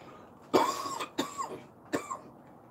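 A person coughs three times in quick succession, each a sharp, close, harsh burst with short pauses between, alone in a quiet setting near a grill.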